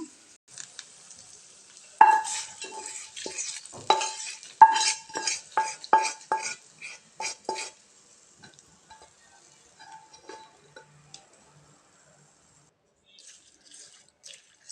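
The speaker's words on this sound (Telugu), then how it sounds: "ఇప్పుడు కాస్త ఇంగువ, ఇప్పుడు ఇంకా పచ్చడిలో కలిపేసుకుందాం." A spoon clinks and scrapes against a pan while gongura chutney with asafoetida is stirred, a dense run of quick close taps for several seconds, then sparse faint clicks and near silence.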